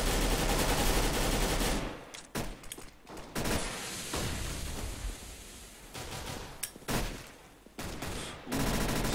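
Gunfire in a Counter-Strike match, dense overlapping bursts of rifle shots and rattling automatic fire, loud and continuous with brief lulls.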